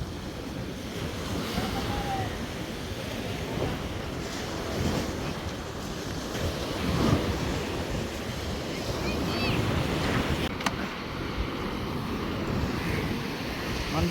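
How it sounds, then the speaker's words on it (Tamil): Waves break and wash continuously onto a fishing beach as two boats come in to shore, with gusts of wind buffeting the microphone and faint, indistinct voices in the background. "ஸோ இங்கே 2 போட் வருது."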